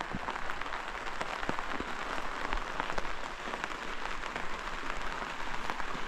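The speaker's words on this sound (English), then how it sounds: "Just watch the world rain. Watch the world get wet." Rain falling steadily at a remote, foggy campsite in Appalachia, a continuous pattering hiss with scattered louder drops striking nearby surfaces, no voices over it.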